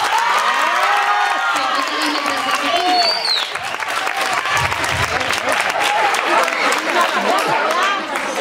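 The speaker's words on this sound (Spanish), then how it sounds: "le damos el aplauso correspondiente a Olga González" Applause from an audience for a town education councillor, loud and continuous clapping mixed with some cheering voices and crowd chatter.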